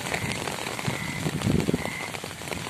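Steady rain patters on a surface in Swabi, an even hiss of drops with a few louder splashes, with no voices.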